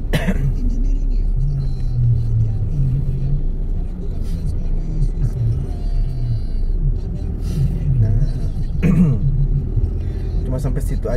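Slow-moving traffic on the Jakarta-Cikampek toll road before Lebaran, heard from inside a car as a deep, steady engine and road rumble, with a person speaking over it throughout.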